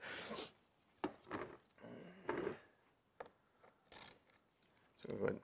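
Bolts on a car spoiler are tightened during an ACS Stage 3 Aero Spoiler install on a new C7 Corvette Grand Sport. Close, quiet bursts of ratcheting clicks and metallic taps come in short intermittent bouts with pauses between them.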